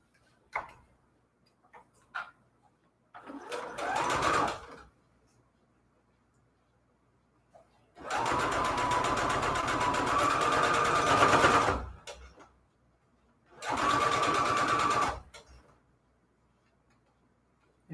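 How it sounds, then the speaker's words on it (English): A sewing machine stitches fabric scraps together in several separate runs, some short and some lasting a few seconds, with a fast, close, steady mechanical chatter and quiet gaps between the runs. "Sew these two together."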